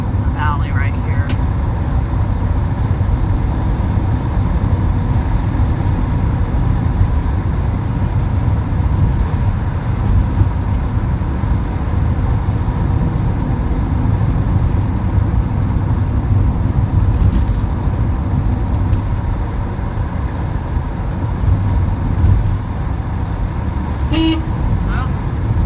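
A VW bus with a freshly installed new engine rolls through a valley, its steady low engine drone and road rumble filling the cabin continuously, with a brief higher tone near the end.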